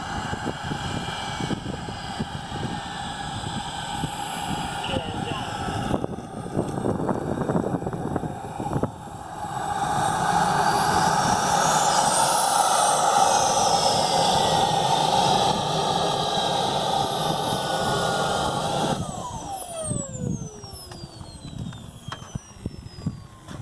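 HSD T-33 model jet turbine, a 10-pound engine, runs with a loud sustained roar and whine that swells midway, holds steady, then falls away, with wind buffeting and no talk.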